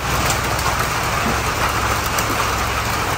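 Steady rain falling outdoors during a mountain trip in Iloilo, a dense, even hiss with a faint low engine-like rumble beneath, constant and fairly loud for the whole stretch.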